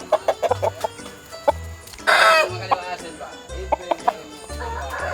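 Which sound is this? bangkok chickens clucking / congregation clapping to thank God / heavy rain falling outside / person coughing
bangkok chickens clucking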